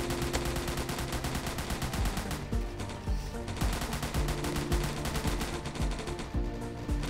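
Rapid gunfire aimed at a zombie in a zombie attack video game, shots cracking in quick bursts over a dense, steady bed of game music and effects throughout.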